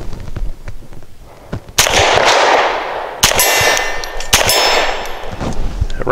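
Suppressed Langdon Tactical 92 Elite pistol firing 124 grain subsonic round-nose rounds with a softer charge, three loud sharp reports spaced about a second and a half apart, each with a ringing metallic tail, outdoors with no talk.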